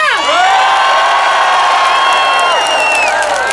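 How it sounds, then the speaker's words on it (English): A large crowd at a rally in George Square, Glasgow, cheers loudly in a sustained roar of whoops and high shouts, many voices swelling and tailing off together. "Give yourselves a cheer!"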